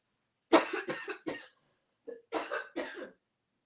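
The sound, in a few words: coughing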